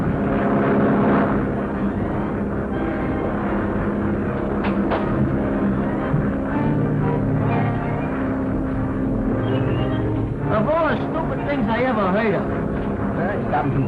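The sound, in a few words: ambulance airplane engine flying, 1941 film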